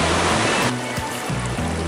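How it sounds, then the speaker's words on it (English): A waterfall in a rocky gorge in Australia's Top End gives a steady, loud rushing roar, with a low droning hum underneath it. "oh, there's such a beautiful waterfall."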